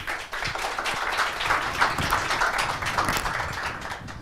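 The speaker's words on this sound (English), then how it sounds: "So a round of applause for our CEO, Liviu Dragan." A conference audience on healthcare AI and robots claps in sustained applause, moderately loud and spread out, with no speech over it.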